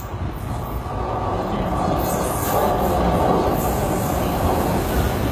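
A London tube train runs towards Beckton from Limehouse, its steady loud rumble and rolling wheel noise filling the carriage continuously without pause.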